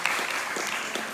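Audience clapping for the staff at a Qur'an recitation event, a dense, steady wash of many hands throughout, fairly close and lively.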